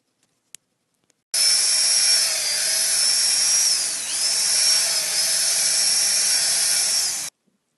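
A power drill bores tap holes 1 to 1.5 inches deep into maple tree trunks about three feet above the ground, making one continuous high, steady whine for about six seconds that dips briefly midway, with faint clicks before it starts.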